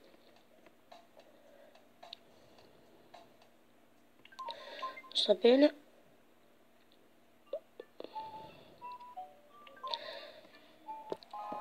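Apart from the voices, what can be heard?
phone call ringing in the video game Tomodachi Life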